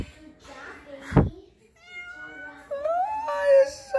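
A small cat meows several times, drawn-out and rising, with a sharp knock partway through and people talking softly nearby.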